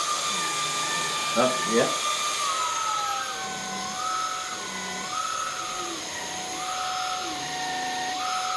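A MOOSOO stick vacuum runs on its high setting, a steady close whine with a pitch that wavers and dips as the motor loads and recovers, while someone briefly speaks over it.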